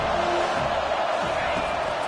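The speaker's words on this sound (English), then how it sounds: "Decibels rising as the crowd gets behind this defense on third down." Dense stadium crowd roar rises for the defense on third down in a college football video game, a loud, continuous wash of cheering that holds steady throughout.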